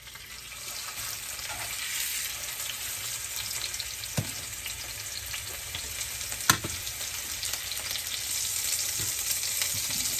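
Beef tenderloin steak sizzling and frying hard in a very hot pan, a steady dense crackle with a few sharp pops, close and alone without voices.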